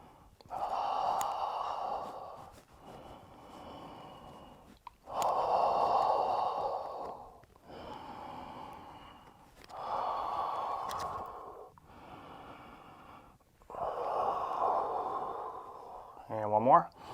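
Heavy workout breathing during quarantine exercise comes in long, audible inhales and exhales, roughly five or six close, loud breaths in steady alternation, with a short sniff-like burst at the end.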